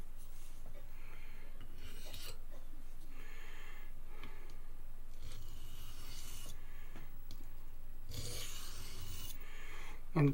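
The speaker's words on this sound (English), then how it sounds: "And I'm going to go ahead and hone her up." A Gerber 350ST knife blade from the 1980s is honed in a series of rasping strokes, each scrape rubbing in bursts with short pauses between them, close and fairly quiet.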